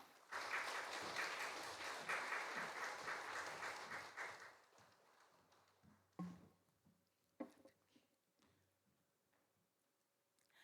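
A church congregation at a dawn worship service claps to welcome an elder, a fairly soft run of applause lasting several seconds before dying away into a hushed room with a few scattered ticks and knocks.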